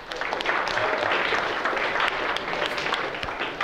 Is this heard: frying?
no